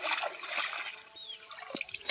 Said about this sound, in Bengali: তো তালটা আমি ধুয়ে নিচ্ছি পোড়া পিঠার জন্য